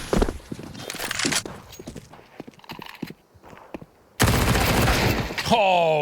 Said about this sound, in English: Great shots for Story.